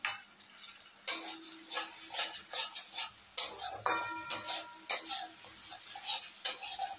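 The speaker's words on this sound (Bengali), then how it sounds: "মশলা ভাজা হয়ে গেছে," A spoon scrapes and clinks rhythmically against a pan while spices fry with a soft sizzle underneath, close and fairly quiet.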